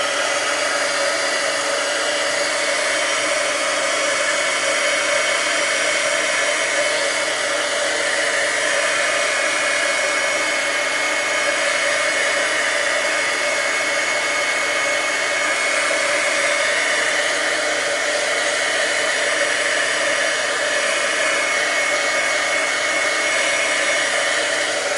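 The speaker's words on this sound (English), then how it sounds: "Now I'm going to use my heat tool this time to set this so we can continue" A heat tool blows continuously while drying ink on vellum, giving a loud, steady, even whoosh with a motor whine that holds unchanged from start to finish, with no voices.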